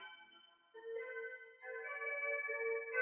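A small alarm clock chimes a soft melodic electronic tune, close and fairly quiet, with a few stepped tones that build over a couple of seconds.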